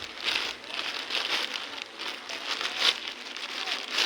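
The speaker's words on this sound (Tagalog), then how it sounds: "Malakas ang ulan dito." Heavy rain falls steadily on a surface during a storm in Metro Manila, a soft, continuous patter with crackly bursts, close and fairly quiet, with no one speaking.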